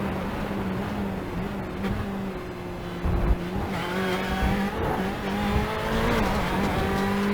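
Onboard engine of a GTE sports car racing in iRacing at Autodromo Nazionale Monza: a steady droning engine note rising and shifting through gears, with brief tire squeal and a bump midway, continuous and close.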